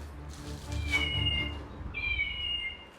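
A cat meows indoors at home, two drawn-out cries in quick succession, the second higher and cleaner, fairly close over a quiet room with no talking.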